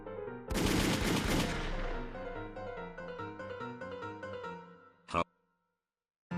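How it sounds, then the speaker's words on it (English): A stylised burst of gunfire from a magic bullet power in a JoJo's Bizarre Adventure Golden Wind parody, a loud cracking blast near the start laid over ongoing music, followed by a short sharp hit later. "I can deal with him with my bullets. Go, Sex Pistols."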